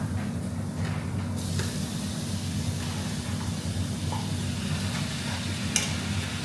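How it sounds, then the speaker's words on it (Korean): Shrimp dropped into hot scallion oil in a pan, sizzling steadily at moderate volume with a few brief clinks and stirring noises. "이렇게 지글지글 파기름이 살짝 올라오면 새우를 그냥 투하"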